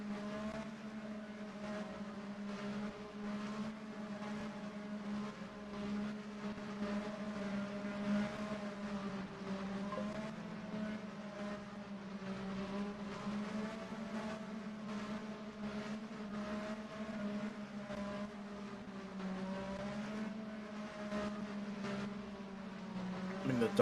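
IndyCar race cars in a racing video game at the St. Petersburg street circuit, engines droning steadily with a sustained buzzing whine throughout, moderately loud and continuous.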